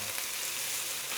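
Ground beef brisket, home-minced and fatty, frying in a pan, giving a steady, close, even sizzle with no talk over it.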